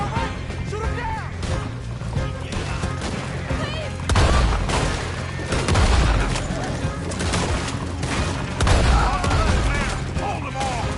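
Gunfire in Red Dead Redemption 2 during a chase shootout: continuous loud volleys of shots with heavier bursts and booms, mixed with game ambience and in-game voices shouting.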